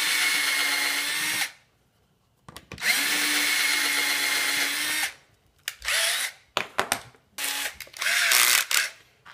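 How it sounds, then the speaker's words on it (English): Power drill fitted with a self-centering Vix bit boring screw holes for a DIY wall sconce, loud whining bursts of about a second each, then several shorter stop-start pulses, with no talking. "Got a VIX bit, so it's a self-centering bit. So that's what I use to make sure I get the holes perfectly centered."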